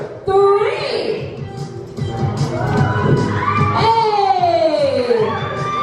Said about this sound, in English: that's a little applause for a big man